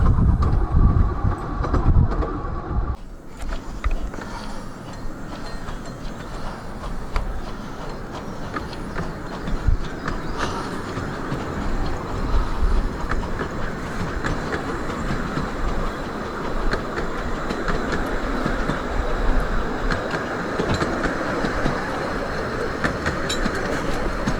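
A train on the Ravenglass and Eskdale Railway rumbles along the rails with a continuous loud clatter and steady rhythmic clicking of the wheels.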